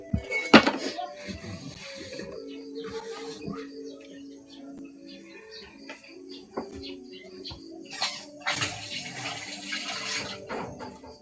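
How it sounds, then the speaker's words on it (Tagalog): Water runs outdoors, trickling and splashing unevenly before swelling into a louder rushing stream near the end, with birds and faint background sounds. "Agas ng tubig."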